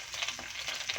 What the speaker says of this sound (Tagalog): Gisa mo siya sa sibuyas, bawang, tapos yung karne.